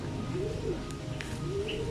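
Pigeons coo softly nearby in a couple of low, rolling calls, with faint chirps and light background noise around them.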